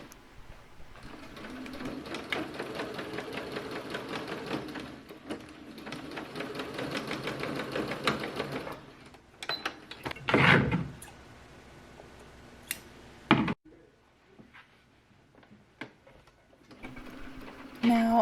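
A sewing machine runs steadily for about nine seconds while stitching summer dress fabric. Afterward come clicks, handling noises and a sharp knock.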